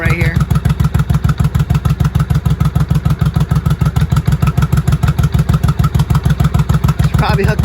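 A 1983 Honda Shadow VT750C motorcycle engine idles steadily nearby, a loud, even, rapid low-pitched pulsing with mechanical clatter that holds through the whole stretch, with a brief extra rise near the end.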